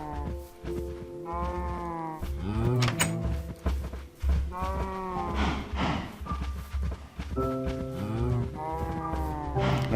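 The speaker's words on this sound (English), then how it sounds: "Alright, come on you cows, come in here." Minecraft cows moo repeatedly in the game, several overlapping low, drawn-out calls in quick succession, steady and fairly close with no talking.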